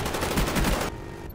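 Rapid AK-74U automatic gunfire in the Xbox 360 game Black Ops 1, a fast steady burst of close, loud shots that stops abruptly partway through, leaving quieter game ambience.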